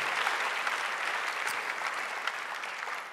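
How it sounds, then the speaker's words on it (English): An audience claps together at a church service, a steady dense patter of many hands held at an even level for a few seconds with no voices over it. "Give these people a clap."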